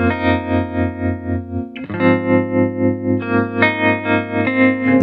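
Guitar chords ring through an analog tremolo effects pedal, volume throbbing in a regular quick pulse across several chord changes, close and prominent.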